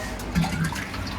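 Clean water is poured from a clay pot over cattle feed to soak it for a cow, giving a short, close, gurgling splash.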